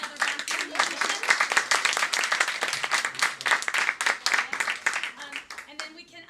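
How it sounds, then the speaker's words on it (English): An audience at a school art and music evening gives a round of applause, many hands clapping loudly and continuously before thinning out near the end, with a voice faintly present. "Let's give another round of applause."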